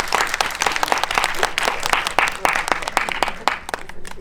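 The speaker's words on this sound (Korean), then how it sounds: "뜨거운 박수 부탁드릴게요." Applause from an audience welcoming a film director and a screenwriter onto a stage at a movie talk event, dense steady clapping throughout.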